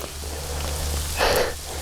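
Steady rain falls on a surface at a night camp, a constant close hiss with a brief louder patter partway through and a low hum underneath.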